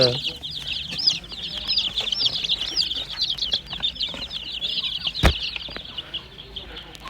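A busy chorus of high cheeping chicks with some clucking hens and roosters nearby, continuous and lively, with a thump and a brief rustle partway through; the chicks are out in the sun.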